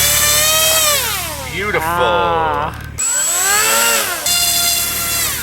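A model airplane electric motor spins a freshly balanced propeller outdoors at the flying field, loud and close, its whine rising and falling as the throttle changes, with brief cutoffs and a voice speaking once.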